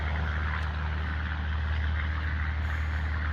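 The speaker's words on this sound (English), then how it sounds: "Sorry about the trucks going by." Trucks drive past outdoors near a garden, a constant heavy rumble of engines and tyres with a deep low drone that holds steady throughout, fairly loud and with no talk over it.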